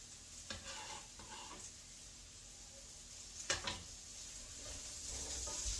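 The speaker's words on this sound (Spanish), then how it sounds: "Vamos a freír la cebolla con las papas" Chopped onion fries with potatoes in a pan, a soft low sizzle broken by a few sharp scraping stirs of a utensil, including one louder scrape midway, with the hiss swelling slightly at the end.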